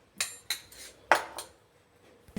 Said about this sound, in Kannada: ಎಲ್ಲ ನೀಟಾಗಿ ಹೀಗೆ ಮಿಕ್ಸ್ ಮಾಡೋಣ.